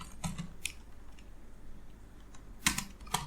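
Scattered keystrokes on a computer keyboard, a few quick taps near the start and a short cluster near the end, with quiet gaps between, fairly close and moderately soft.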